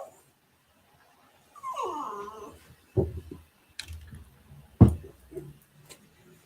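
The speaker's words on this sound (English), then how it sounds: "You hear my dog whining?" A dog whining in a rising, wavering whimper, followed by a few short yips and soft scuffs, fairly close and otherwise quiet with no voices.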